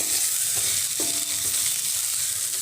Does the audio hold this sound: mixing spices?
yes